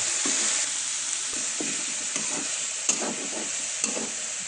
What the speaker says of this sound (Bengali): লবণ পরিমাণ মতো ভালো করে কষাইতে হবে